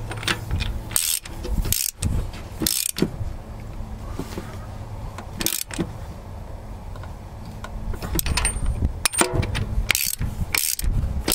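A ratchet turns a seven-eighths socket on a TD7C bulldozer, clicking close and loud in repeated quick bursts with short pauses between strokes and no talking.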